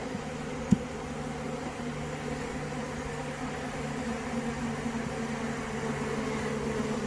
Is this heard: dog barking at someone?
no